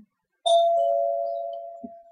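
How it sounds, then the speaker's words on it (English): A doorbell rings once indoors, a clear two-tone chime that rises sharply and then fades slowly over about two seconds, with a soft click near the end and silence before it. "of course, the doorbell has to ring"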